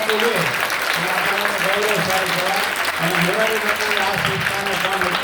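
An audience at a community gathering bursts into sustained applause, a dense mass of claps that fills the whole stretch, with a voice speaking over it.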